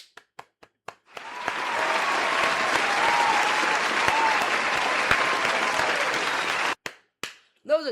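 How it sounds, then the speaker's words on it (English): Sustained applause from a crowd, clapping loud and steady for several seconds after a few scattered claps, then breaking off into brief noises. "Hey, clap it up for her, though."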